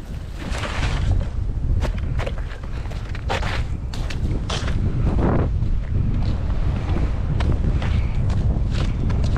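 Steady, loud wind buffeting the microphone outdoors on a frozen lake in Iowa during ice fishing, with rumbling gusts and scattered thumps throughout.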